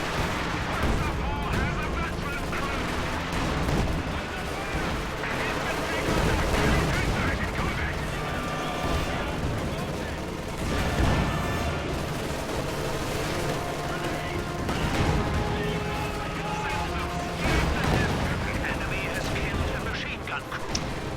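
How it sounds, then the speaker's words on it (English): LEFH artillery bombardment in a World War II strategy video game, repeated heavy shell impacts and booms rolling continuously under a commentator's talk, dense and fairly loud. "LEFH is bombarding in this area."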